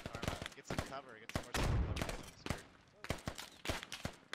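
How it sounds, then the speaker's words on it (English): Incoming gunfire in the military shooter game Squad, with repeated sharp gunshot cracks and bursts in quick clusters. The shots come loud and close, and a brief heavier rumble follows partway through. "So we're still taking rounds, you still see those traces going right to left"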